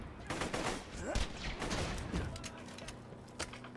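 Rapid, dense gunfire in Borderlands 2's Captain Scarlett DLC, a continuous crackling burst of shots lasting several seconds, fairly faint and steady with a few sharper cracks near the end.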